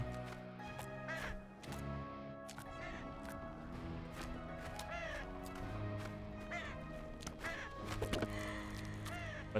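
Repeated harsh bird caws from a video game, several short calls spread over the clip on top of steady game music and effects, fairly loud and close.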